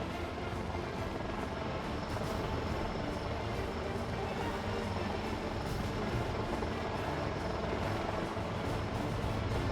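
A Lynx naval helicopter flies overhead during a military landing-operation demonstration at sea, its steady broadband rotor and engine roar continuous and loud throughout, with no clear speech.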